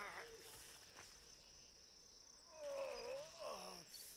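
Wolf and bird calls from the video game Atlas, faint and distant over a steady high hiss, with a wavering howl-like tone rising in the second half and a voice speaking briefly at the start.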